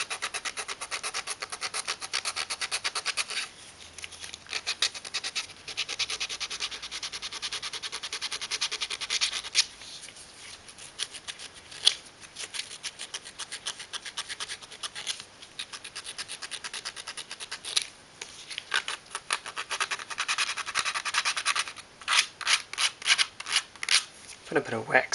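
Steady rubbing and scraping as a wooden edge is sanded into a 20 millimetre chamfer, continuous back-and-forth strokes at close range with brief pauses, turning into quicker, choppier strokes toward the end.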